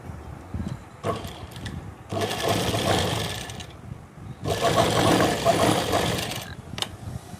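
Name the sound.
sewing machine stitching salwar fabric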